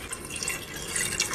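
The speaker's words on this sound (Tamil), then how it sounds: "தண்ணி ஊத்த போறேன்." Water poured into a cooking pot in a home kitchen while making chapati, a short close splashing and filling sound with faint drips, heard alone.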